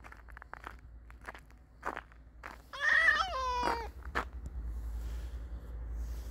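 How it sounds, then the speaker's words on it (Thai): Footsteps crunching on snow and ice on a snowy night in Denmark, a quiet run of soft, close crunches at an uneven walking pace, with a short wailing cat-like cry partway through. "ยิ่งแต่เสียงฝีเท้าตัวเองฉับฉับฉับนะฮะ"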